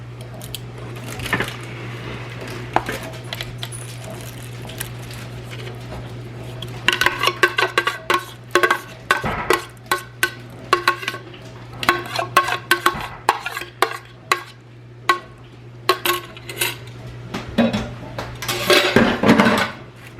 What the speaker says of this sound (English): But we're just going to shred this all up, and then we're going to put it.